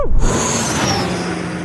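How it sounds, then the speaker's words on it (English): An Audi RS e-tron GT electric car accelerates hard in a drag race against an Audi RS Q e-tron Dakar rally vehicle. Its wheels spin briefly. A loud, close rush of tyre and motor noise is joined by a rising whine. "Oh, it spins its wheels up a little bit."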